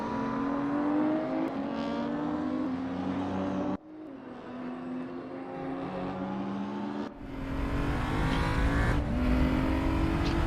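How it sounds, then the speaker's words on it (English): Race car engine in a sim racing game at the Sepang South circuit, a continuous high-pitched whine from the cockpit that shifts pitch through gear changes and surges louder as the car accelerates. "So right now we are inside Joshua Jerome car."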